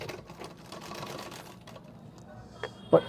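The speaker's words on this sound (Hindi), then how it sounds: "तो इसके बीच में इलास्टिक में एक सिलाई मारनी है" A sewing machine runs a steady stitching pass along elastic on a sharara garment, fairly quiet and continuous, with a sharper knock near the end and faint voice murmuring under it.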